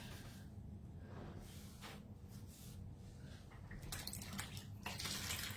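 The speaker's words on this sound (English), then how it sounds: "stick my erasers in water, rinse them and wring them out" Chalk stamping erasers rinsed by hand in a sink of water, a steady low wash of sloshing and splashing with brighter splashes and drips growing louder toward the end, close by and without talk.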